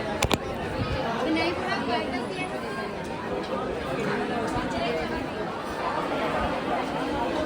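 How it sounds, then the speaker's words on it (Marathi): Dense crowd of devotees packed in the long queue at Lalbaugcha Raja, a continuous close hubbub of overlapping chatter with shuffling movement throughout, a couple of sharp knocks near the start. "जसं जवळजवळ येतं तशी गर्दी वाढत चालली ना"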